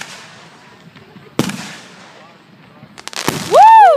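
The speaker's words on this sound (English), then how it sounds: "I love fireworks so much." Fourth of July fireworks burst at a distance, two sharp booms followed by crackling, then a loud whistling firework rises near the end while people cheer.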